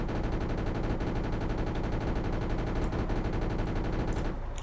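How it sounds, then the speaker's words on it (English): Rapid, continuous machine-gun fire from tanks in the Arms Trade Tycoon Tanks video game, a dense loud stream of shots running throughout before cutting off abruptly near the end, with no talk. "we want to fire our machine guns at these guys"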